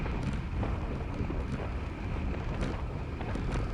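Wind roars and buffets against the microphone of a cyclist riding into a headwind, a steady, loud low rumble with gusty surges and no talk.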